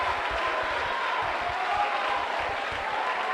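An excited crowd roars through a high school wrestling match between Melrose and Wakefield in a Wakefield gym, a dense, sustained wash of cheering and clapping that stays loud and steady throughout.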